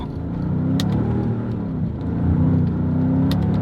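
A Mercedes-Benz SL55 AMG drives on wet roads, its engine a steady close rumble that swells slightly as it accelerates, with faint tyre hiss and a couple of brief clicks from inside the cabin.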